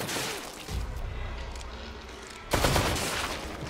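Gunfire in The Evil Within 2, a crossbow or gun going off in the game: a dense burst of rapid shots at the start, then a lull and a second loud burst near the end, with no one talking.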